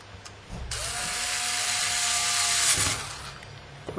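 Screws being driven into a hard drive enclosure with a small tool: a steady, continuous whirring grind of about two and a half seconds, close and fairly quiet, with no talk.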